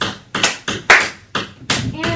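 A class of students claps hands in response to a teacher, producing about six sharp, loud claps in separate bursts spaced fairly evenly, with no talking between them.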